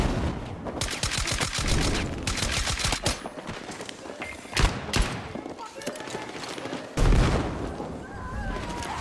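Bursts of automatic gunfire and sharp shots in the video game Battlefield, rapid rattling volleys with heavier blasts near the middle and end, loud and close.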